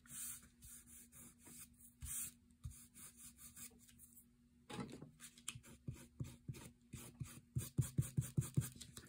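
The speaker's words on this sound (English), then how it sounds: "Blue eraser." Paper is scrubbed with a blue eraser in faint, close, rhythmic back-and-forth rubbing strokes that come in quick bursts and grow faster and more regular toward the end.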